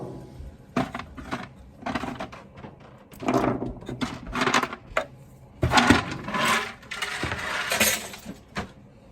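Cast aluminum scrap with brass parts being taken apart by hand, giving irregular bursts of metallic clanks, knocks and rattles, close and fairly loud, with short pauses between strikes.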